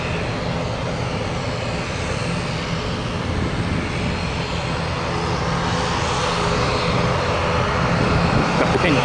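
An American Airlines jet departing Tampa International, its engines roaring loud and steady throughout as it climbs away, with no voices over the roar.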